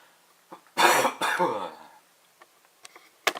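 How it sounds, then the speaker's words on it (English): Two quick, harsh coughs close by, one right after the other, followed by soft faint clicks in a quiet room. "I apologize about the cough."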